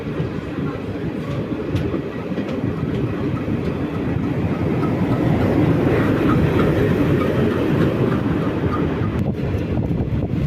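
A passenger express train in southern India rumbles along the rails at speed near Virudhunagar Junction, a loud continuous roar with faint rhythmic clatter, heard from on board.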